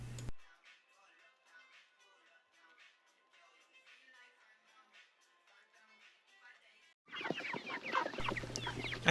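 Chickens on a homestead, healthy and running around, make soft, faint clucking and scattered calls, followed by louder, busier clucking near the end.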